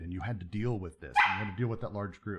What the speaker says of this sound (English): That's my dog telling me that she wants out.